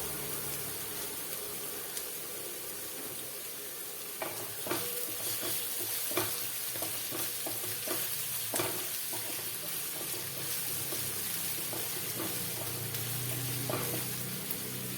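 Ginger and garlic fry in a pan for a Kerala-style crab roast, giving a steady close sizzle with scattered light clicks and stirring scrapes throughout, and no voices.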